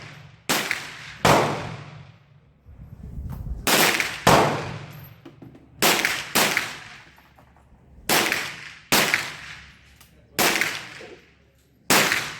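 A Swedish Remington rolling block rifle fires cast-bullet reloads. Loud, sharp cracks come in close pairs, about five pairs spread across the stretch, with quiet gaps between them.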